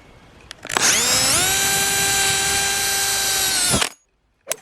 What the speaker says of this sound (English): using 6mm drill bit to drill the holes through the wood